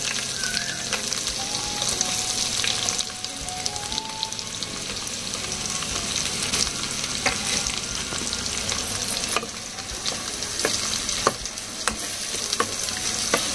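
Sliced onions fry loudly in a pan for a Konaseema-style chicken pulao, a dense continuous sizzle with repeated scraping and clacking from stirring throughout.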